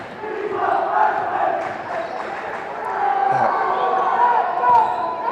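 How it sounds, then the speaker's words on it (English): High school basketball crowd in a gym swelling with cheers and shouts, a steady roar with louder surges, while a commentator talks over it and a ball bounces now and then. "The East crowd getting a little bit into it there."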